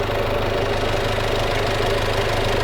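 A van engine runs at a steady idle, a continuous close rumble with a low, even throb and a slight knocking texture throughout, with no voices over it.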